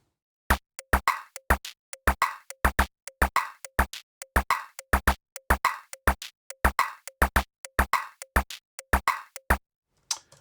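Electronic drum machine beat from a Logic Pro X Ultrabeat Minimal Electro Kit programmed on a step sequencer: crisp, dry, close clicks and thuds in a tight repeating groove, with silent gaps between hits and no voices.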